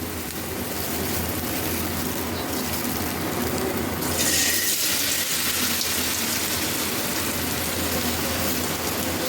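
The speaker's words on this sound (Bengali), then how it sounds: "তো গাইস দেখুন আমি এটা ব্যাটারে চুবিয়ে নিয়েছি, এখন তেলে ছেড়ে দেবো" Bread-coated chicken spring rolls drop into hot oil and fry with a loud, continuous hissing sizzle, close by, swelling slightly as more pieces go in.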